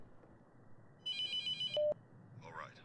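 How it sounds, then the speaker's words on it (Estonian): A telephone rings in the horror game The Mortuary Assistant, a steady electronic trill lasting about a second, followed by a short lower electronic tone and a faint voice-like burst afterward. "Jälle mingi telefoni heliseb."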